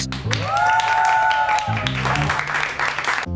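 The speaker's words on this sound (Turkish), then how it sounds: "Arkadaşlar Alfonso'ya bir alkış" A small group of friends claps for Alfonso, with lively applause mixed with a rising whistle-like tone and voices, the clapping growing denser toward the end.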